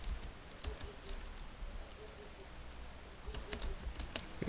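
Fingers tapping on a computer keyboard, irregular bursts of light clicky keystrokes with short pauses, close and moderately quiet over low room noise.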